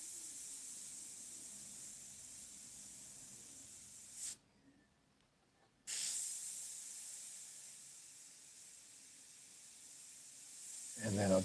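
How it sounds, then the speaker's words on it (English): An airbrush spraying paint gives a soft, steady airy hiss, cut off for a second and a half in the middle before resuming, with quiet speech at times. "I'll just pull the airbrush away a little bit and leave room for that brown"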